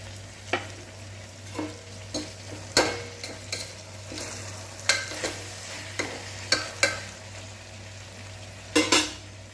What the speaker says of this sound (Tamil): இஞ்சி பூண்டு பேஸ்ட்டு போட்டு ஒரு நிமிஷத்துக்கு வதக்கியாச்சு.